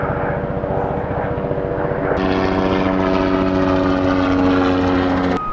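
A loud, steady engine drone of a low-flying helicopter fills the clip, with a sharper whine joining partway through, then fading near the end.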